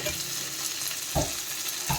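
Shrimp frying in a pan, a constant close sizzle of hot oil with two short stirring scrapes, no voices.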